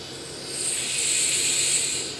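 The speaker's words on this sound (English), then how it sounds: "that's the sound of precision ball bearings" A steady, airy whirring hiss swells and holds from a free-spinning, non-returning yo-yo with precision ball bearings.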